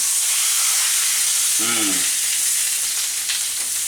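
Spice-crusted food sizzling in a hot pan just after being flipped, a strong steady hiss with a brief low thud of the turn early on.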